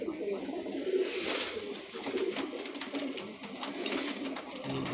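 Kamagar and Golden Teddy pigeons cooing close by in a loft, soft low repeated coos in a steady rhythm over faint background noise, with occasional wing rustles and bits of talk nearby.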